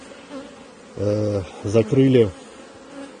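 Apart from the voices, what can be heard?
honey bees buzzing around a queen cage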